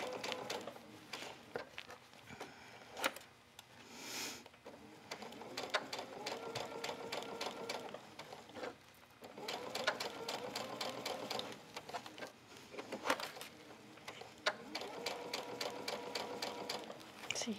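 A sewing machine stitches a fabric flounce onto a tank top, its steady close whir running in long bursts separated by brief pauses.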